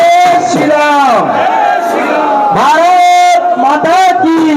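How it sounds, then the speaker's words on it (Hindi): Loud crowd at a BJP political rally in support of a candidate, with a strong massed chant of slogans filling the whole clip, sustained voices swelling in waves. "जोरदार तालियों से स्वागत अभिनंदन और एक बार जोरदार जयकार लगाएंगे"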